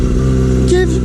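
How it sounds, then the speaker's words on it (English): A cold Yamaha R6 motorcycle warms up with a loud aftermarket exhaust, a steady, close idle drone with a pulsing throb and a small rise in revs near the end, while a person talks over it. "Just warming up bike. Hopefully you hear it. Got nice exhaust, actually it's pretty loud anyway."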